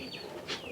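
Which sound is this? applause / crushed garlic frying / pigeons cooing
pigeons cooing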